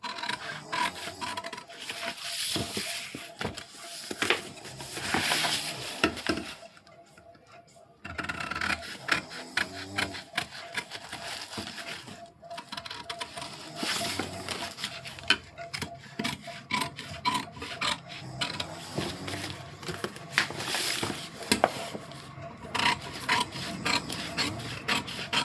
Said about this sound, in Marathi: तर आता आपण हा कटिंग करून घेऊ.